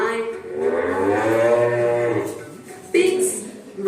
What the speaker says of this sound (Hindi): काउस यानी गाय